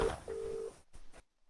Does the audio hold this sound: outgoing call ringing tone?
yes